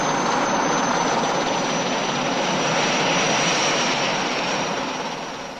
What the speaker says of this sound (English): I was airlifted to Morocco's front lines by Army helicopter